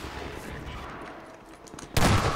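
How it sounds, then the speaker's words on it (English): Shotgun blasting in Half-Life 2 Episode 1, a single loud, close burst near the end that follows a stretch of quieter gunfire and game noise. "We've got a shotgun, that's better."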